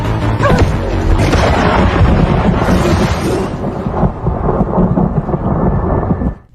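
A loud, sustained rumble of thunder with crackling, booming layers fills an animated story's storm scene, rolling continuously before cutting off abruptly at the end, with no voices.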